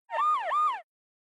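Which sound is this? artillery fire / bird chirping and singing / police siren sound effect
police siren sound effect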